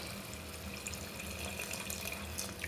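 Warm water pours steadily into a cooking pan of prawn rice, a continuous quiet splashing stream close by with no voices.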